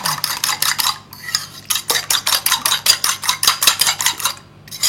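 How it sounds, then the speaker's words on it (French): Eggs and salt are beaten in a bowl with a utensil, producing loud, rapid rhythmic clinking and scraping strokes that pause briefly twice before resuming. "Vous mélangez bien."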